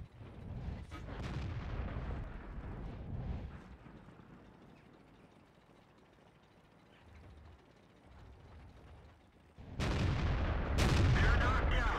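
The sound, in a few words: tank cannon fire in video game World of Tanks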